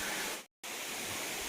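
Penchalakona waterfall pours in a steady, even rush of falling water, broken by a short moment of total silence before the roar resumes.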